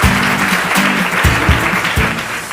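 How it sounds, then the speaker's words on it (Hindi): A studio audience on a Hindi kids' quiz show claps loudly in a dense, sustained round, with musical accent hits punctuating the applause. "जोरदार तालियां।"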